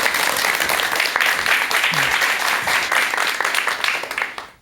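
A lecture audience gives warm applause, dense clapping from many hands that holds steady and then tapers off at the end.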